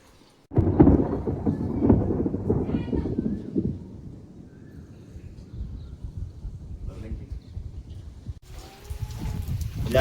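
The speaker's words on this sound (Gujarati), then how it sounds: "અત્યારે કારુનો વરસાદ શરૂ છે મિત્રો." Heavy rain falls during a storm as a deep thunder rumble rolls in suddenly and fades into a lingering downpour, with brief voices in the background.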